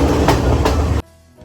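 A passenger train on the Kandy to Ella line in Sri Lanka rumbles loudly for about a second with a couple of wheel clacks before the sound cuts away abruptly.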